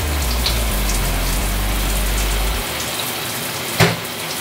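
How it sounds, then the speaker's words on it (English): Steady broadband hiss of a home shower running, loud and continuous, then the low rush drops away partway through leaving a lighter spray with a brief knock near the end. "I'm gonna get in this shower."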